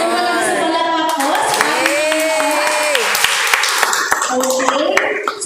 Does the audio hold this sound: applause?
yes